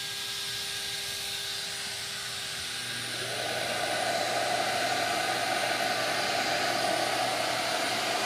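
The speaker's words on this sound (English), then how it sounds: "so we don't get blown out by router and dust collector noise" A CNC router cutting inlay work alongside a dust collector, a continuous loud roaring whoosh that swells partway through and then holds steady, with no talking.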